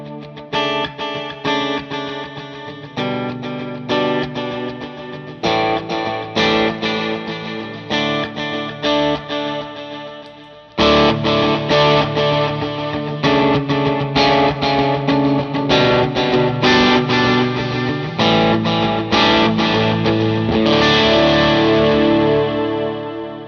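Electric guitar played through delay, reverb and drive pedals rings out in repeated chords and notes with echoing tails, growing louder and fuller halfway through and holding to the end with no talk.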